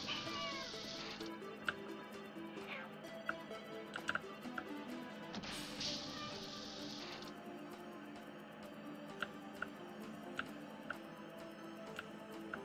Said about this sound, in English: My cat's here.